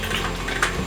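An electric mixer creams cake batter with a steady, close motor whir that runs unbroken and fairly loud throughout, with no voices over it.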